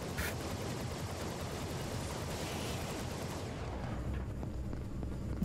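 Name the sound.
enemies shooting in the video game Vladik Brutal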